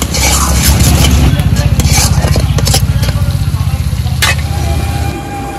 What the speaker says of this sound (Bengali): এবার একটু নাড়াচাড়া করে পরিমাণ মতো জল দিয়ে দেব।